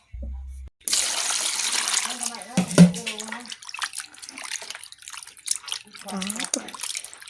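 Ingredients for a Lao fish curry with pickled bamboo shoots being rinsed under running water, with a steady close splashing and gurgling stream and intermittent sloshes, voices faint in the background.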